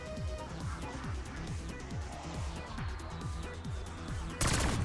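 Rapid SMG fire in Black Ops 6 Zombies, dense repeated bursts of shots in fast rhythm with impact clatter, ending in a louder burst.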